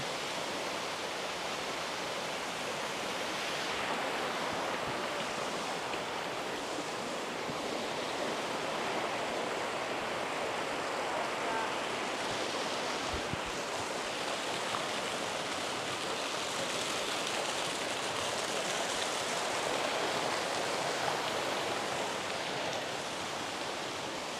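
The Brantas river rushes below the Ngawonggo historic bathing site, a steady, even wash of flowing water heard from a distance, fairly soft and unbroken, with no voices over it.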